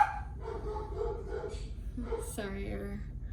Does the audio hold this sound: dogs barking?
yes